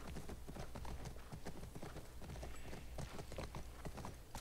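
Horse hooves clop in a quick continuous gallop in The Last of Us Part 2, a dense run of thudding beats over a busy in-game background, with no other sound standing out.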